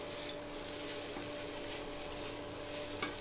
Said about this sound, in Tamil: அடி பிடிச்சிடாமல் கைவிடாமல் இப்படி கிளறிக்கோங்க.